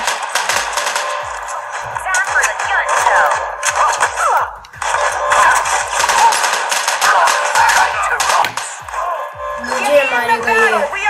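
Rapid bursts of gunfire in the game Modern Combat Versus crackle in quick repeated volleys, with brief pauses and other game effects mixed in.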